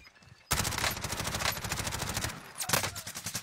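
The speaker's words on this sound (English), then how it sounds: "I don't know why I tried to shoot an MP5 so far away." MP5 submachine gun fire in a first-person shooter video game, a loud rapid burst of shots that starts abruptly, then a brief pause and a few more shots.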